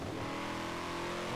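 A Formula Drift 1500hp V8 car in Forza Horizon 4 revs in a brief, dense, buzzing engine roar held at steady loudness, with no voices.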